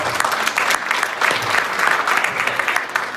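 A comedy club audience breaks into dense, steady clapping that fills the room at moderate loudness throughout, with scattered crowd noise mixed in and no speech over it.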